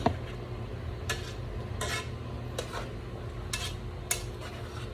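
Beef caldereta stirred in a pan: a quiet, close scraping of a spoon against metal with four or five soft clinks spaced about a second apart over a low background hum.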